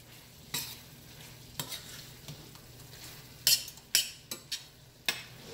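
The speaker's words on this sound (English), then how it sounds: "I'm just gonna keep stirring this for about 2 to 3 minutes." Spoon stirring flour into a curry chicken pot pie filling in a pot: faint, steady scraping and soft sizzle with irregular light clicks of the spoon against the pot, close and quiet.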